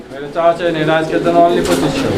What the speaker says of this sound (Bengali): দর্শক এটা কিন্তু জ্যাকোবিন কবুতর ডিম বাচ্চা করা রানিং কবুতর